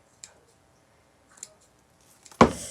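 Scissors snip off straggly pieces of a red, white and blue spiral wreath in a few sharp, close clicks spread over a couple of seconds.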